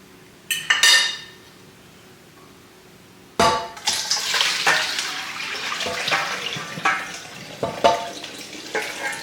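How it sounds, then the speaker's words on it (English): Corned beef and its pickling liquid pour from a pot into a colander in a kitchen sink, a sudden loud splashing gush that settles into steady draining and clattering for several seconds, with a brief metallic clink beforehand and no talking. "I'm going to dump this into the colander I have in the sink here."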